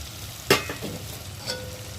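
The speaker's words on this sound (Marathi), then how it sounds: "आता मी टोमॅटो टाकते।" Medium tomatoes dropped into a hot pan for chana masala, a sharp sizzling hiss as they land followed by brief stirring scrapes and a smaller second splash of frying.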